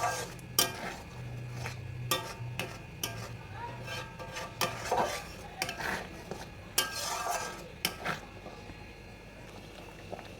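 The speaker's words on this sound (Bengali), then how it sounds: "খুব ভালো করে এটাকে নাড়তে হবে, তলা ধরে গেলে কিন্তু মিষ্টিটা খেতে ভালো লাগবে না" Mango kalakand mixture is stirred in a pan over a low flame, with repeated scraping and clinking of a spoon against the pan and a faint sizzle beneath, fairly quiet.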